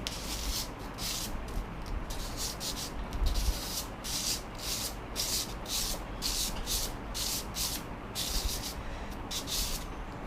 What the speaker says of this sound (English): So the body I'm just going to sand up and down.